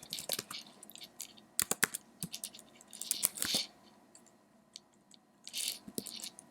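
Clicky keystrokes on a computer keyboard come in irregular bursts and short runs with pauses between, close and crisp, while entering a search into Google, with no talk.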